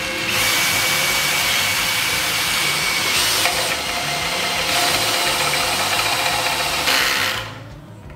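An Einhell 18 V brushless drill driving a 28 mm hole saw in a workshop, a loud steady whirring drone that runs several seconds with slight pitch shifts before winding down near the end.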